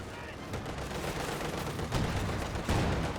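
Battle noise from the World War II strategy game Company of Heroes 2: a dense, continuous wash of distant small-arms gunfire and muffled mortar and shell impacts, with a few louder thumps standing out.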